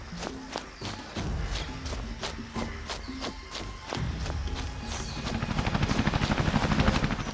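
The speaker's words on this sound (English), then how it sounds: "Sounds like choppers." Helicopters approach during a jungle mission in a video game set in Nigeria: footsteps thud at first, then a pulsing rotor chop swells steadily louder toward the end.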